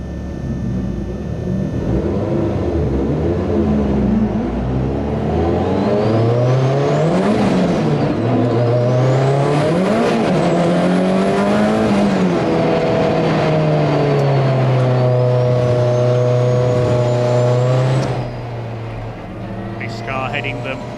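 Classic Thunder Saloons race cars idle and rumble through a long green flag lap at Silverstone, engines droning steadily with rising and falling revs close by, while a voice talks over the whole stretch.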